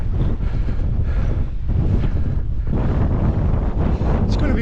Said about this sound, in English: It's going to be wild up here by the feel of that wind.